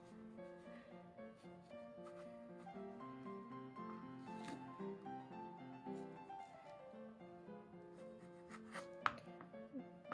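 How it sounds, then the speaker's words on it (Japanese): A kitchen knife works around a natsumikan summer orange, shaving the peel away in a series of soft, close cutting strokes and light taps, fairly quiet and unhurried with no talking. "みかんの黄色いところと白いところに 少しずつ包丁を入れて 回しながらそぎ切りするような感じで切ると割と取れます"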